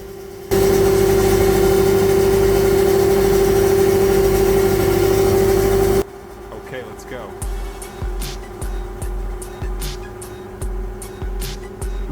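A farm tractor engine in second gear roars loudly and steadily at high revs for several seconds, then cuts to a lower rumble with sharp intermittent knocks and clicks; someone talks over it.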